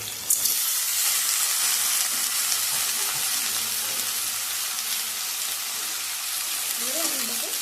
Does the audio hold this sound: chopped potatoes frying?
yes